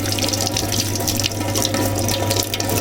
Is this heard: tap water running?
yes